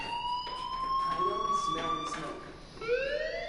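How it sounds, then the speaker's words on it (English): A fire alarm in the video game Life is Strange sounds as a steady, piercing electronic tone that wavers slightly, with voices faintly underneath. "Hey, do you hear that fire alarm?"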